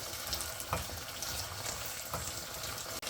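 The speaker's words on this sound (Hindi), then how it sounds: "हाई फ्लेम पे ये पानी सॉस का ड्राई करेंगे।" Pasta sauce and water sizzle and bubble steadily in a pan on high flame as they cook down, a soft continuous frying crackle with occasional stirring scrapes.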